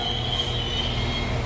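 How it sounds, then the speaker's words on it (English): A Northern passenger train on the Liverpool branch of the West Coast Main Line at Liverpool South Parkway station gives a steady rumble with a sustained high wheel squeal, close and continuous. "The train looks quite busy"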